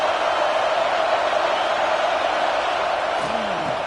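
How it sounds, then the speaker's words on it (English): A stadium crowd at a football game roars steadily in the early going, a dense, continuous wash of cheering that stays loud and unbroken throughout, with a brief whoop near the end. "Listen to the crowd energy here in the early going."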